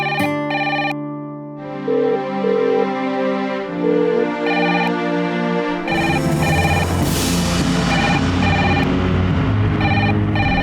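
After a call is placed, a telephone rings out loud and electronic, its repeating ringtone pattern carrying over a busy musical background with no talk.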